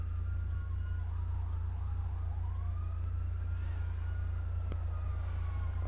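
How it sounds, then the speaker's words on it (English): A police car siren wails faintly in the distance in a GTA video game, its rising and falling tone riding over a constant loud low hum. "I hear that police car."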